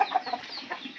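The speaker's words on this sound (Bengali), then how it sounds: "এগুলো আমার মুরগি, এই মাত্র ডিম নিয়ে আসছে।" Hybrid Sonali chickens cluck softly and repeatedly nearby, giving short, quick, uneven calls in a quiet farm setting with no talking.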